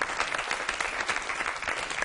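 Audience applause for the winner, Cavid, at a competition final: dense, steady clapping from a crowd that fills the whole clip without any talk over it.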